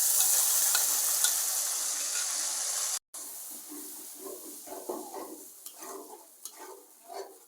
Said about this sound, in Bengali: রোস্ট বসানোর জন্য কড়াইতে তেল গরম করে পেঁয়াজগুলো ভেজে নিলাম, আর রোস্টের মিক্স করা মশলাগুলো দিয়ে দিলাম।